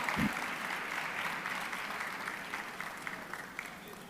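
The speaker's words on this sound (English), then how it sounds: "let's give them a warm round of applause, please" Audience applause at a national town hall on voting rights, a steady even wash of clapping from a seated crowd that holds from start to finish.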